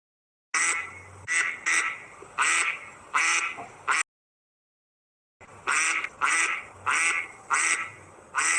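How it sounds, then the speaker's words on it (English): A recorded mallard duck quacks in a rapid series of loud, nasal calls, grouped in two bursts with a short silent gap between them. "let's hear how the mallard sounds like"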